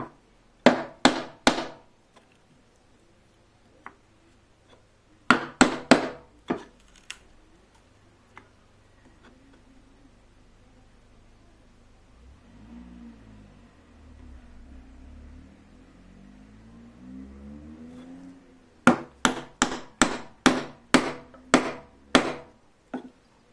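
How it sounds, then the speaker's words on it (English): A chisel chops mortises in very hard Japanese ash, struck in tight bursts of sharp, close knocks with quiet gaps and a low scraping stretch between the groups. "I'm going to start angling my chisel a little bit."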